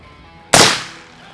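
A single sharp gunshot cracks loud and close as a firearm is fired while being zeroed at 10 meters, then decays quickly into a short echoing tail.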